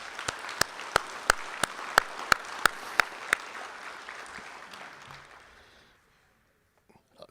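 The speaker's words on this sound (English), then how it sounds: "how about giving them a round of applause right now?" Audience at an NSRA awards reception in Louisville, Kentucky applauding sponsors, with distinct loud claps in a brisk rhythm over softer applause that fades out into silence.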